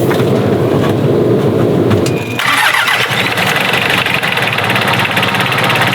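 A sailboat's engine turns over and starts, then settles into a loud, steady mechanical running rumble close by, with no talking.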